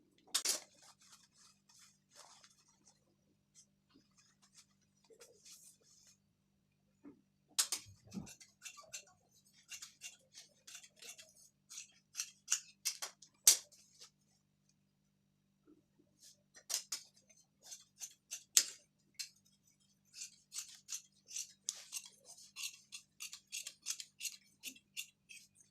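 Scissors cutting blouse fabric for a size 30 four-tuck blouse, close, quiet crisp snips in quick irregular runs separated by brief pauses, with occasional light knocks of the tool on the table.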